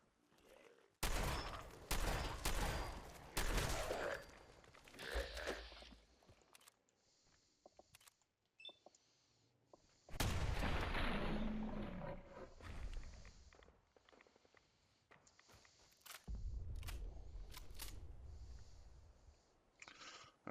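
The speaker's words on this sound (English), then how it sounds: "I saw that explosion in practice too." Explosions and gunfire during combat in the Fallout 4 video game, with loud bursts of shots and blasts in clusters, pauses of near silence between them, and a later heavy boom followed by continued firing.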